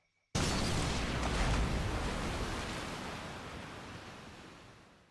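Water-breathing special attack in the PS5 fighting game Demon Slayer: Hinokami Chronicles, a sudden loud rushing splash like a crashing wave that bursts in at once and slowly washes away over several seconds, with no voices.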